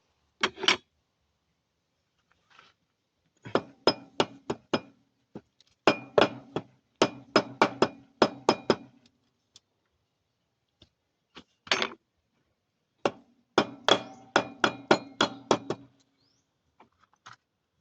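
Sharp hammer strikes on wood, fired in quick clusters of hits separated by pauses, close and ringing, with no voices.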